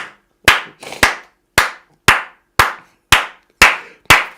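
A congregation applauding in church: about nine loud, sharp, evenly spaced claps with a brief flurry near the start, heard close with silence between them.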